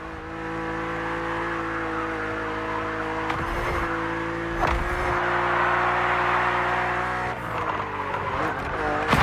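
A BMW Z roadster races in The Crew Motorfest, its engine holding a steady, loud droning note that dips and rises with gear shifts, with brief tire squeals and scrapes along the way.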